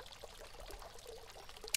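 Water pours steadily in a video game as water is crafted, a short soft continuous splash without speech.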